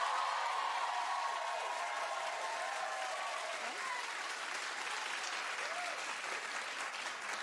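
Steady, even applause from a television studio audience fills the whole stretch, a dense wash of clapping with a faint voice beneath it.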